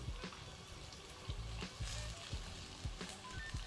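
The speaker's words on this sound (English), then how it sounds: "Now I added my okra" Sliced okra goes into a pot of callaloo, giving a quiet, continuous sizzle broken by soft stirring knocks and splashes.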